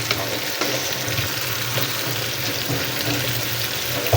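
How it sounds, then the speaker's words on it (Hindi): Okra (bhindi) frying in a pan, a dense, continuous loud sizzle with occasional stirring scrapes, close. "तब तक हमारी भिंडियाँ फ्राई हो जाती हैं"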